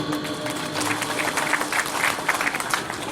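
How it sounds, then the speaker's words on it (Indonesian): A crowd applauds at a village development review presentation in Asparaga district, with steady clapping that swells in the middle over a faint background hum. "Tepuk tangan dulu."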